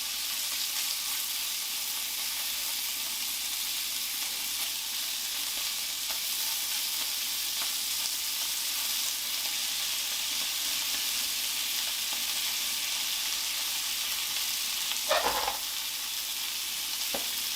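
Meat for Texas chili sizzling steadily in a hot frying pan, a loud continuous hiss and crackle close by, with a brief scrape of a utensil near the end.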